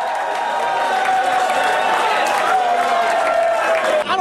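Crowd of fans at a World Cup viewing in Mobile cheering as the USA advance to the knockout round, a dense, loud wash of shouts, whoops and clapping with voices mixed in.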